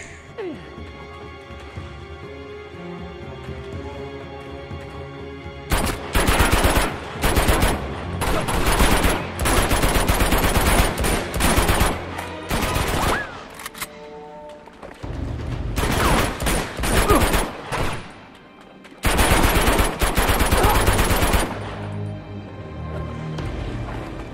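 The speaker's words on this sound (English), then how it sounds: "I'll take an AK-47. Here come those next round now." AK-47 fire in Uncharted 2 comes in loud, sustained automatic bursts and fusillades separated by short pauses, close and dominant, with a few grunts between volleys.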